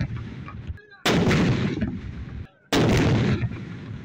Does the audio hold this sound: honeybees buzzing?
no